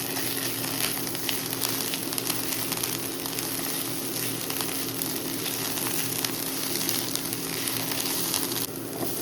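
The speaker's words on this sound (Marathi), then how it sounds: "आतां घालता आले लसूण पेस्ट" Garlic paste frying in a pan with softened onion, a constant dense sizzle and crackle with a low steady hum underneath, continuing without pause.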